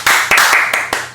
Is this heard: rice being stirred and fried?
no